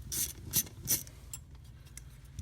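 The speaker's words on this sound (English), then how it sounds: "So we're going to back off on these two screws," Screws being backed off on the heating control panel of a 1967 Ford Mustang, giving three quick metallic clicks with a ratchet-like quality, close and fairly quiet, followed by faint softer ticks.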